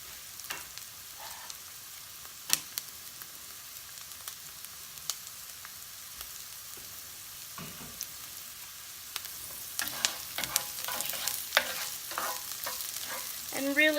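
Onions sizzle in a pan as they cook toward translucent for Hungarian goulash, a steady low crackle broken by sharp utensil scrapes and stirring clatter that grow busier near the end, with no talking.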